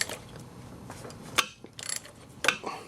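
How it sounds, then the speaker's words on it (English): A ratchet works an Allen socket with a few clicking pawl sounds and scraping mechanical noises. The sounds come in short bursts, close and fairly quiet, with no talk. "Put the ratchet in, push in on the ratchet while you try and twist."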